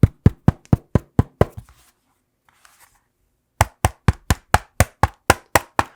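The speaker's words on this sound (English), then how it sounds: "Here's a quick sample of the Zenbook bottom and top cover tap test" Knuckle taps on the top cover of an Asus Zenbook Pro Flip laptop, a quick run of about seven crisp, evenly spaced knocks, a short pause, then another steady series of ten or so.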